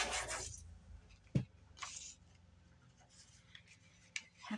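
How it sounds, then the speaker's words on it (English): Scissors snip through paper for an envelope ring binder, giving a few faint, quiet cuts and soft rustling in a quiet room. "I'm just going to do a quick cut."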